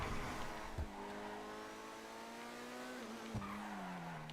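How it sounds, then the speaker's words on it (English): Car tires squealing under hard braking after a fast launch, a sustained tonal screech that slides slightly in pitch over a few seconds, with a couple of thumps from the car. "Hard on the brakes."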